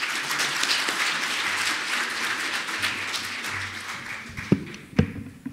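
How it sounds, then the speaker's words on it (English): A warm round of audience applause welcoming the Kresge Foundation president to the stage, a dense wash of clapping that thins out toward the end, with a few louder individual taps and thuds near the close. "let's welcome President Rapson with a warm round of applause."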